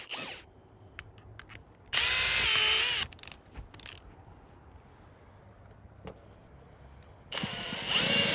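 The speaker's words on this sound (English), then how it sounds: "first I'll drill a pilot hole before I cut the rest out with a hole saw" A power drill bores a pilot hole through the exterior house siding of a home, ahead of cutting with a hole saw. Two loud, steady whining bursts of drilling are separated by quiet pauses with faint clicks.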